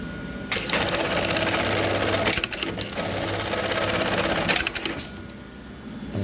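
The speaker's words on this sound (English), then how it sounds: "The other clamp comes down, and we're ready to sew." An AMS210EN industrial sewing machine stitches very narrow Velcro onto a strap, its loud steady needle chatter running almost the whole time with brief shifts in pace and a drop as it winds down.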